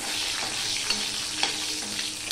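Black cumin and salt sizzling in hot oil, a dense continuous crackling hiss close by, with faint scraping stirs adding small accents and no talking.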